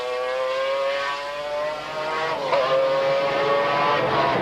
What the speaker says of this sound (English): On goes the leading car, clear road behind and a clear road ahead.